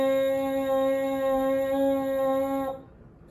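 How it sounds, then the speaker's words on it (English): A steady, loud lip buzz on a French horn mouthpiece, played free without the horn, holds one rich pitched tone for almost three seconds, then stops abruptly, leaving no speech. "see if you can do that free buzz on the mouthpiece"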